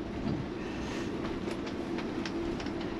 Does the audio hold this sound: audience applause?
no